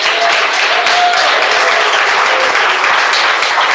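A church congregation claps together in steady, dense applause that fills the room, loud and continuous without pause.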